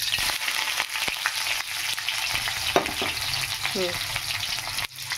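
Onions and paneer fry in oil with a steady, crackling sizzle throughout, broken by a few scraping stirs and clinks of the utensil.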